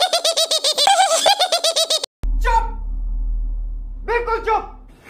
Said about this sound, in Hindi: चिड़िया है पीछे से टी टी टी टी कर रही